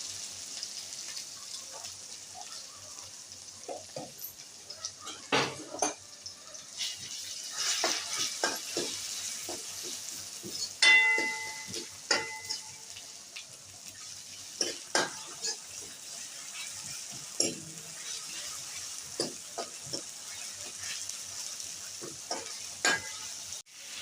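Ginger garlic paste and onions sizzle and fry steadily in a pan for ragda patties, with frequent spoon scrapes and clinks against the metal throughout, close and moderately loud, with no talking.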